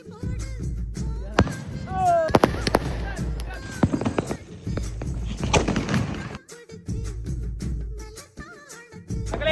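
Sharp firecracker bangs burst irregularly at Diwali, several close together, with people chatting and calling out over the pops.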